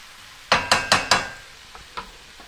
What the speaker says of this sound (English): So I've got the onion in here. It's sauteed a little bit